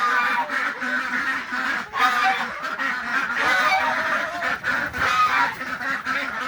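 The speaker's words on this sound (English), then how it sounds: "The ducks are really loud, and we have a couple of guard geese that help provide predator protection" Ducks and a couple of guard geese in a barn, loud continuous honking and quacking from several birds at once, close by and overlapping throughout.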